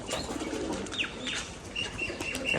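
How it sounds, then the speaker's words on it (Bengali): Pigeons at a Rajshahi colour-matching pigeon farm, with soft cooing and chirps under a busy outdoor hum and a brief flutter of wings, no talk. "দেখুন বাজিটা দেখুন বসে পড়লো একটা সবুজ নর"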